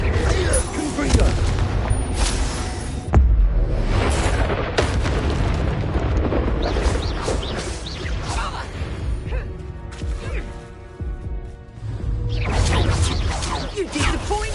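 Confringo explosive spell blasts in Hogwarts Legacy, with repeated loud booms and crashing explosions during a battle, heavy low rumble rolling between hits and a brief quieter lull midway.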